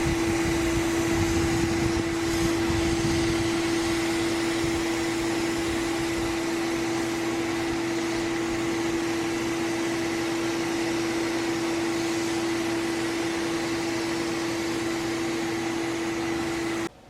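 A Lemmer T-75 HVLP spray gun runs steadily with its smallest 1.4 needle, laying down Broda Protector stain with a continuous loud airy hiss and a constant tonal whine from the turbine, unbroken for the whole stretch.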